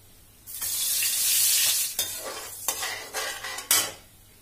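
Chopped carrot, capsicum, onion, cabbage and spring onion fry in butter in a pan with a steady, bright sizzle, broken by several scraping stirs of a spatula against the metal; no one speaks.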